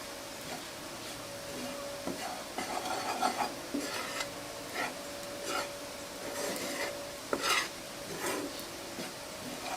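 Henna powder dry-roasting in a pan while it is stirred, a steady gritty rasping and scraping with soft rhythmic strokes throughout and a faint background hum, with no speech.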